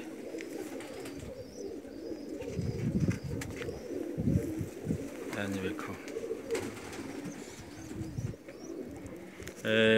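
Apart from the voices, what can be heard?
fancy pigeons cooing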